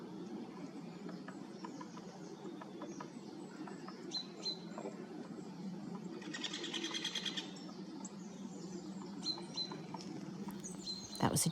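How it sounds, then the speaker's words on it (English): Faint outdoor winter ambience with scattered bird calls, including a few harsh, rasping jay squawks, over a low background hum. "That was a jay you just heard"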